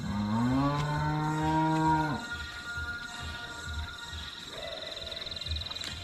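Cattle in a cowshed at a farm house give a loud, sustained moo lasting about two seconds, followed by quieter background sound and a fainter, higher, steady call later on.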